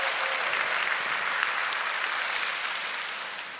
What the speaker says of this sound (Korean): 박수를 치시려면 시원하게 치셔도 돼요